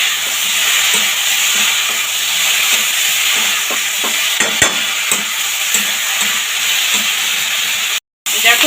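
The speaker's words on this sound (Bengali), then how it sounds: "দেখো সবজিটা খুব সুন্দরভাবে ভাজা হয়ে গেছে, মশলাটা সুন্দরভাবে কষানো হয়ে গেছে" Green banana and other vegetables fry with spices in a pan. A steady, loud sizzle runs throughout, with scraping stir strokes and a brief dropout near the end.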